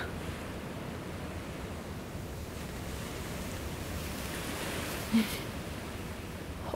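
Sea waves wash steadily against the shore, a constant broad rushing surf with some wind noise and a faint soft bump partway through.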